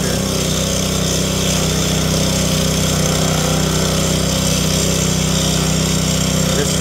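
Gorilla early entry concrete saw with a Honda 200 motor, running as a loud continuous engine drone with the grinding rasp of the blade, close and steady throughout.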